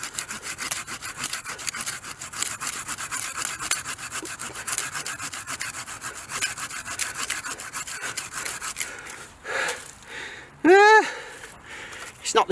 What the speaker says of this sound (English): cut this whole knuckle off